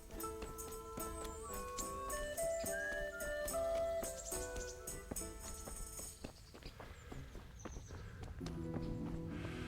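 A horse walks in Kingdom Come Deliverance 2, its hooves clip-clopping in a steady rhythm beneath game music with sustained melodic notes, the steps growing more prominent as the music thins near the end.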